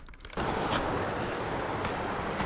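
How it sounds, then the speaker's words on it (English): Strong wind gusting at a mountain lakeside in the Ansel Adams Wilderness, a steady loud rush buffeting the microphone after a brief quieter start. "It's pretty windy up here."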